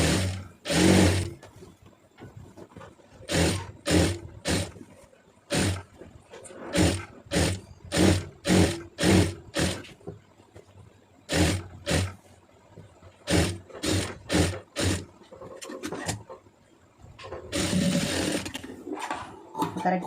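A sewing machine stitches a blouse cross piece in repeated bursts of rapid mechanical whirring, stopping and starting in a steady rhythm. The machine is loud and close, with short pauses between runs.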